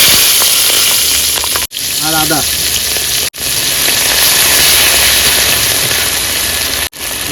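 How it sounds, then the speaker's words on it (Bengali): Whole cumin seeds and green chili fry in hot oil, giving a loud, continuous sizzle broken by a few brief cut-outs, with a short burst of voice heard over it. "তেল গরম হয়ে গেছে গোটা জিরে ফোড়ন দিয়ে দিলাম"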